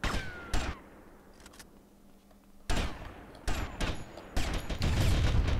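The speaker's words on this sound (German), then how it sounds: "jetzt schieße ich mich auch noch selber über den Haufen" Bursts of gunfire from the video game GTA Vice City, with sharp loud volleys at the start and then a dense run of rapid shots and impacts near the end, separated by a quieter gap, no talking.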